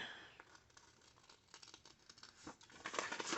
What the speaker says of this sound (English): And then I just fussy cut it out.